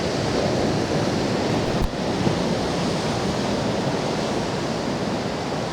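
Rough sea waves break on the coast near Comillas in northern Spain, a dense continuous roar of surf mixed with wind buffeting the microphone, loud and steady throughout with no voices.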